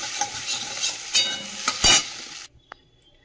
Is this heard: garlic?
yes